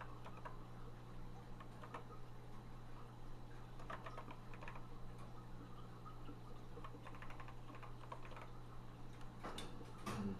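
Keys typed on a Texas Instruments speech synthesizer keyboard, a quiet run of irregular plastic clicks over a steady electrical hum, close but faint.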